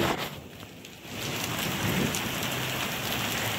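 Steady rain pours down in a cold outdoor storm, a dense continuous hiss that swells louder after the first second and holds close and even, with no voices.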